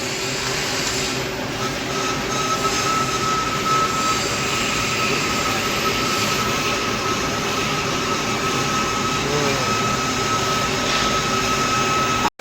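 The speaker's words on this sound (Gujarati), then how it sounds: "અહીંયા ટર્નિંગ કામ ચાલુ છે।" A lathe turning metal in a workshop runs with a continuous mechanical drone and a thin, steady high whine, unchanging throughout.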